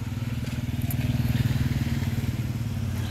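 A motorcycle labours up a steep gravel road, its engine chugging in a steady, loud, close pulse that strains without gaining much pace.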